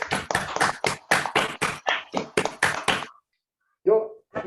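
Audience applause, a short burst of clapping that stops abruptly, followed after a pause by a brief voice.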